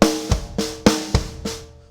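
Drum kit beat with sharp snare accents and extra bass drum hits on the offbeats, about six punchy strikes in two seconds with ringing overtones, played alone at close range.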